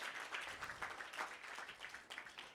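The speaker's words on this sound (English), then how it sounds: "Round of applause for Melanie as well." Scattered audience clapping at a media launch event for Young Scientists Kenya, greeting a woman named Melanie; fairly faint and uneven, rising and dipping in small bursts.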